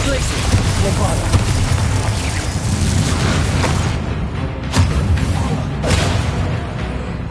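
Bombarda spell blasts in the Hogwarts Legacy video game: heavy, loud booming explosions rolling over a dense battle din, with sharper bursts standing out near the middle and end.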